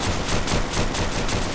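Rapid automatic gunfire in a zombie shooter video game, a dense continuous burst of shots, loud and close throughout.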